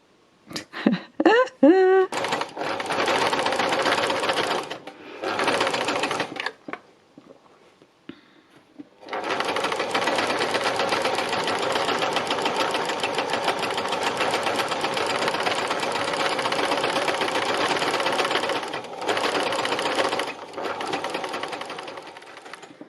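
A sewing machine does free machine embroidery on silver fabric for a seascape, starting with short bursts and then running in a long, steady, close whirring stretch with brief pauses.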